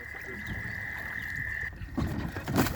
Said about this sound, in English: We're deep in frog territory now though.